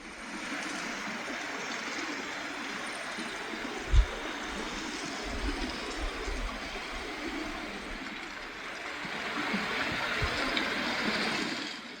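A steady, broad rush of the 80-metre Daeseung Falls in Inje, South Korea, at low water flow, continuous and fairly even, with a brief thump partway through and no voices.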